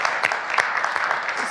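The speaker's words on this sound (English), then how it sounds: "A round of applause for our speakers." Brief applause for speakers at a panel on housing and homelessness: a short burst of many hands clapping together, steady and moderately loud.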